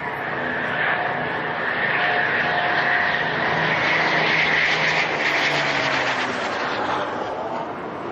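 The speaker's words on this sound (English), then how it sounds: "A Hurricane" A Hawker Hurricane fighter flies over at an RAF air display, its piston engine giving a steady, far-off droning roar that swells gently and then eases away, with no voices heard.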